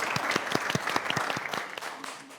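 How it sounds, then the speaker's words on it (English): An audience claps at a talk on chasing clout, a steady run of distinct, fairly close handclaps over about two seconds at moderate loudness. "I think we can definitely clap for that one."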